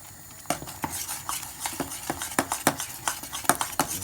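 A spatula scrapes and stirs a lumpy roux sauce for macaroni cheese in a pan, giving a steady run of sharp, close clicks and scrapes at an uneven rhythm, with no voices.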